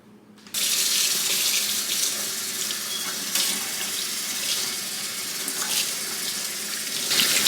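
A tap is turned on and runs steadily, water splashing as deep conditioner is rinsed out of hair, a close, loud continuous gush with small shifts in the stream and no speech.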